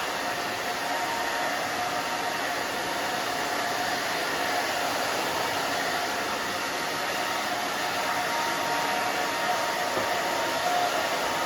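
A blow dryer roars steadily and loudly throughout, a constant close whooshing hum with no breaks and no voices.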